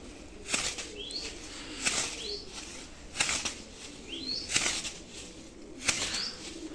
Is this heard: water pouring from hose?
no